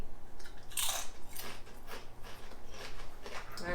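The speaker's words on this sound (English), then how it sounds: "They are super crunchy." Homemade tortilla chips, some with chili lime seasoning, crunched between the teeth in a close series of crisp bites and chews, loud and near, with no talk.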